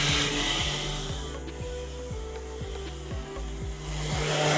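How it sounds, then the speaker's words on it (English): Rhythmic back-and-forth scraping of 320-grit sandpaper on primer, steady strokes about once per second, under a constant whirring dust-extraction vacuum hum. "So here we're sanding primer with 320 grit."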